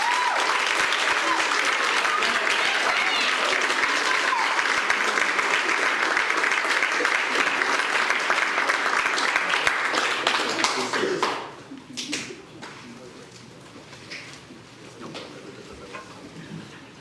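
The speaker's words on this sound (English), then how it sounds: "can I get a round of applause for them?" A large audience at an Eagle Scout Court of Honor in a church hall breaks into sustained, dense applause for about eleven seconds, which then fades into scattered claps, murmurs and faint talking.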